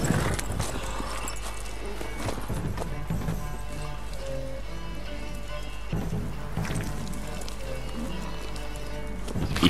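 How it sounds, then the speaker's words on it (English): Steady hoofbeats of a galloping horse in The Witcher 3: Wild Hunt clop continuously at moderate volume, with a faint whinny in the background. "A horse."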